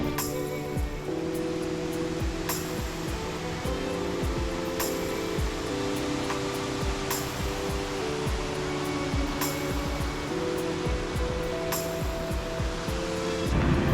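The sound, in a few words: waterfall near Laguna de Los Tres, Patagonia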